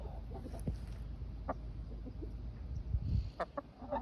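Hens cluck in short bursts, several birds overlapping close by in a crowded hen house, with scattered sharper clucks and rustling in the enclosed space.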